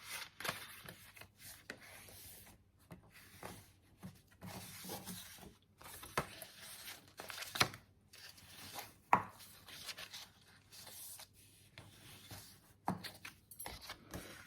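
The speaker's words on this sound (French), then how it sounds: "Nous allons ensuite venir marquer nos plis à l'aide de notre plioir en os." A bone folder creases folds in paper for a slimline shaker card, giving quiet, close scraping and rubbing strokes in irregular bursts separated by brief pauses.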